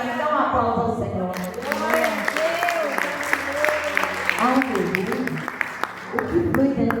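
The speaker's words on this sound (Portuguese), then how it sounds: "Dá um aplauso ao Senhor" A church congregation applauds the Lord, clapping rising after a moment while voices talk and call out loudly over it throughout.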